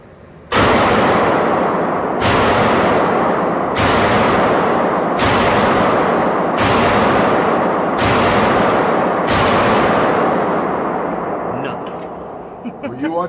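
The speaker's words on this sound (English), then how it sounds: "Shoot a 45 right now." A .45 pistol fired repeatedly at an outdoor range, seven loud, evenly spaced shots roughly every one and a half seconds, each with a sharp crack and a long ringing decay, then fading to quiet.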